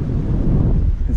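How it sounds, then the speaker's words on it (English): Strong wind at a harbour beach buffets the microphone with a steady, loud low rumble and blustery roar throughout, with no voices. "it is very, very windy at the moment"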